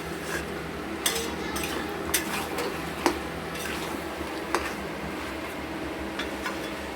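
Chicken being stirred in a pot, a low steady sizzle with scattered clinks and scrapes of a spoon against the metal, fairly quiet and close, no voices.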